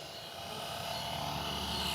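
A Cobra 500 RC helicopter fitted with a Flish RC L7 flight controller hovers nearby, its rotors and motor giving a steady, even whine and buzz with no voices.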